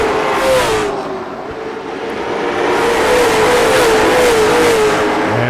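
Stock race cars at Slinger Speedway roar back to speed on a green flag restart during the STSS Gunslinger Whiskey 60. The engine drone is loud and sustained, rising in pitch as the pack accelerates.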